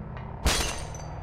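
Glass shatters in the Silent Hill video game, a single sharp, bright crash with a short tinkling tail, set against a quiet, low ambient hum.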